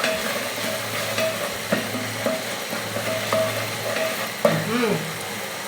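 A spoon stirs a silverfish (omena) stew in a pot after salt goes in, the sizzling of the cooking pot steady beneath repeated scraping and clinking strokes, close and moderately quiet.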